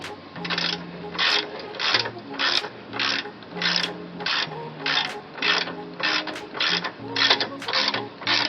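A hand ratchet tightening the top nut of a truck shock absorber on a 2001 Mazda B3000, rapid clicking strokes repeated in a steady rhythm of about a dozen pulls, close and clear.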